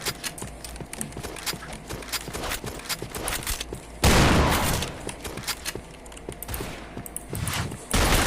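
Rapid bursts of video game gunfire crackle continuously, with a louder sustained blast midway and sharp clicking shots throughout, no talking.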